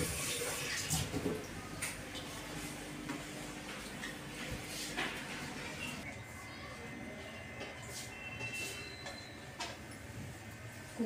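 Steady running water splashes continuously as potatoes are washed, with faint handling and rubbing sounds mixed in, close by.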